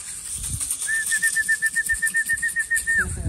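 Pet birds, pigeons or doves, arriving with a rapid run of wingbeats, thumping flaps pulsing steadily over about three seconds close by, alongside a thin high whistling tone and outdoor background noise.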